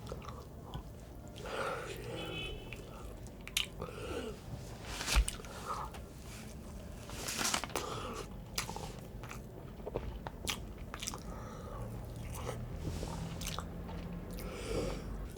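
Someone eats grilled fish with salad and tahini close to the microphone, with soft repeated bites, chewing and occasional crunches and wet squishes at a quiet level.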